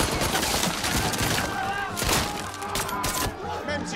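Gunfire from an action film rings out as a dense burst of sharp cracks and thuds, moderately loud and continuous over about four seconds.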